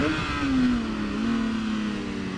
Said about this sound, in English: Woo, the bike's loud.